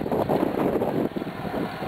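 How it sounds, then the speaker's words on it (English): Wind gusting during a June thunderstorm with rain developing, a steady broadband rush with slight buffeting against the microphone, moderately loud and continuous with no voices. "It's getting windy"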